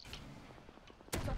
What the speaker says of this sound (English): Shoot a rocket into that joint, bro.